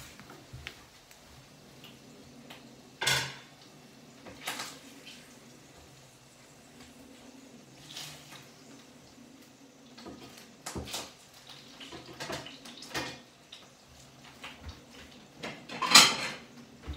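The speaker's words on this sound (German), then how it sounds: "Ich werde es jetzt rausnehmen aus der Pfanne" Burger lifted out of a frying pan, with faint scattered clinks and scrapes of utensil against pan and a few louder knocks over a quiet kitchen background.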